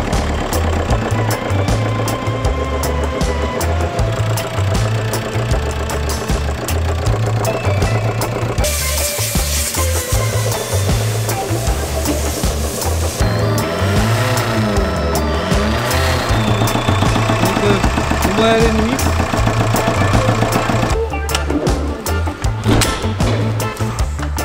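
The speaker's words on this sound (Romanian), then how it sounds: "o să tragă aer pe aici și turbina o să sufle aer comprimat pe aici și o să-l sufle pe aici afară" A 1.9 TDI diesel car engine fitted with a turbocharger from an Audi V6, running steadily with a low throbbing drone and shifting whine, loud and close for the whole stretch.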